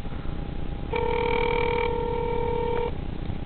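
An outgoing phone call's ringback tone sounds once over the line, a steady two-tone ring lasting about two seconds, moderately loud against a faint hiss.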